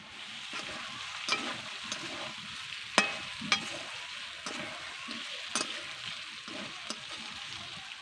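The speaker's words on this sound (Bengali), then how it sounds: "তরকারিকে কষানোর সময় মাঝে মাঝে কিন্তু নেড়ে রাখতে হবে" Shimul fish curry sizzles as it is stirred and sautéed in a pan, a steady frying hiss broken by sharp scraping clicks of the spoon at uneven intervals, close and fairly quiet.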